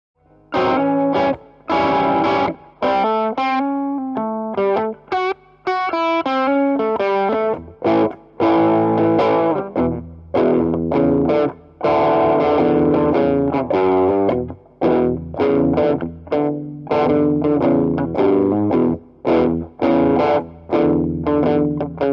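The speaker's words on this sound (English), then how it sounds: "Let's back off the drive a little bit more and see if we can get a bluesier tone." An electric guitar through a Keeley Katana Blues Drive overdrive pedal plays a bluesy lick alone, bent notes and short chord stabs with gentle crunch, pausing briefly between phrases.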